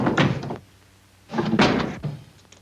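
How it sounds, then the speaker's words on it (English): A kitchen door in need of repair thuds twice, opening and then closing, with a short quiet gap between the two close, solid knocks. "My husband's been meaning to fix this door for some time"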